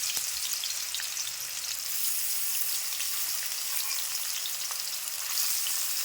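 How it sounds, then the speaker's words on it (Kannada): Paneer fries in hot oil in a kadai, a steady close crackling sizzle with faint pops that runs evenly throughout, with no voices. "ನಾನೀಗ ಪನ್ನೀರ್ ಹಾಕ್ಕೊಳಕತ್ತೀನಿ ರೀ ಸ್ವಲ್ಪ ಪನ್ನೀರ್ನ ಫ್ರೈ ಮಾಡ್ಕೊಂಡ್ರೆ ಟೇಸ್ಟ್ ಮಸ್ತ್ನಾಗ ಆಗ್ತದೆ"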